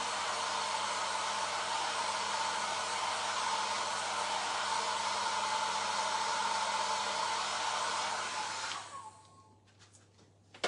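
A hair dryer blows steadily and loudly at close range, drying a chalk transfer, then cuts off near the end, leaving near silence.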